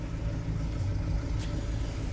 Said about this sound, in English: There's a lorry coming.